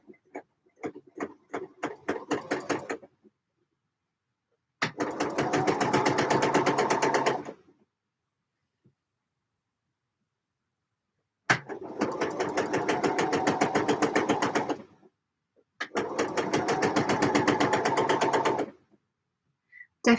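A sewing machine running understitching on knit projects in several bursts of rapid, even stitching, each a few seconds long, separated by pauses of near silence, close and clear with no talk.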